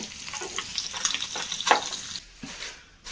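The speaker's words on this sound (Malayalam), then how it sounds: "അപ്പം നമ്മൾ മീനെല്ലാം വറുത്തെടുത്തിട്ടുണ്ട്" Small sardines crackle and spit in hot oil in a pan, close and busy with scattered pops and stirring scrapes, then the sizzle briefly drops away before resuming.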